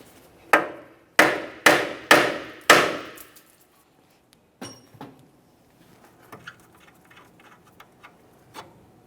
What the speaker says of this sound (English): lightly tap on the steering knuckle itself, causing vibration